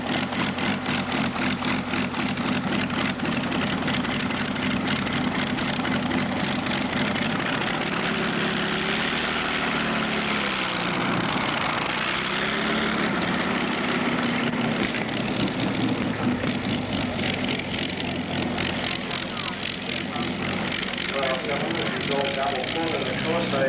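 Heavy tractor-pull engines roar continuously at a 1986 country tractor pull, a loud, steady droning growl with a brief dip and swell midway as the machine strains on the track, under a commentator's voice.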